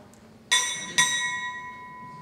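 A ship's bell struck twice at a Navy chief pinning ceremony, half a second apart, each ring bright and clear with a long, slowly fading tone.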